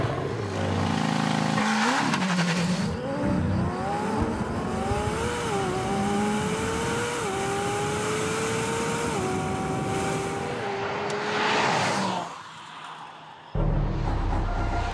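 A McLaren Senna supercar accelerating flat out from a standstill to 200 km/h, its engine roaring loud and close with rising pitch sweeps broken by quick gear shifts, then cutting off abruptly near the end.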